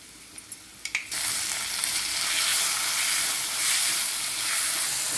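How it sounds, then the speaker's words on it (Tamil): Schezwan sauce hitting vegetables frying in a pan for veg noodles, a few soft clinks and then an abrupt loud sizzle that holds as a steady, bright hiss. "இப்போ இதில் நான் செஷ்வான் சாஸ் சேர்க்குறேங்க."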